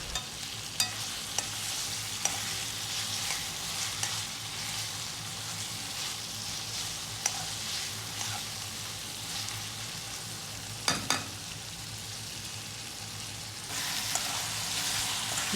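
Tomatoes fry for mutton biryani with a soft continuous sizzle as a spoon stirs and knocks against the pot now and then, moderately quiet and close, no talking.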